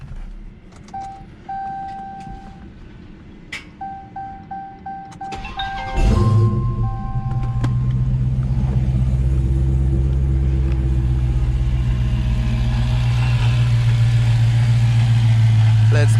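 A Dodge Hellcat V8 fires up around the six-second mark after a few faint beeps and clicks, then settles into a loud, steady, deep idle rumble that holds to the end; some talk comes before the start.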